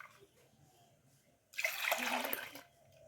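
Homemade bael (wood apple) sharbat poured back and forth between two containers, a single loud splashing pour of liquid lasting about a second after a quiet start.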